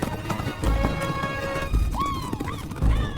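Cavalry horses gallop in the film Mulan: heavy hoof thuds arrive in rhythmic bursts under a sustained musical score, and a high whinny cries out partway through.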